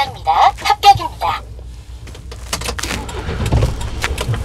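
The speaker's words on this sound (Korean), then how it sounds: "자, 시동 거세요." A car engine starting inside a driving-test vehicle at the end of an exam, heard as a rising broadband rumble and whir after a brief stretch of close talking.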